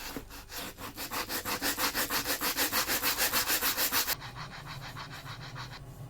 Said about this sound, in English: Give a bit more of a sanding.